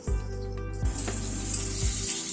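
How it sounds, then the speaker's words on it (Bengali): Potatoes sizzle and crackle in hot oil in a pan, with a low hum and a few soft clunks of stirring. "আলুটাকে আগে একটু ভেজে নিচ্ছি"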